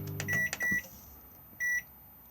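Microwave oven in a Coachman Lazer Xcel 875 caravan, heard as a few short electronic button beeps in quick succession followed by a longer steady tone, close and clear with no talk.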